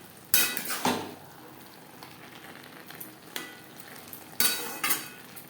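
Banana flower curry (mochar ghonto) is stirred in a pan over a gas flame, giving a few sharp scrapes and clanks of a spoon against metal over a faint sizzle, with quieter gaps between the strokes.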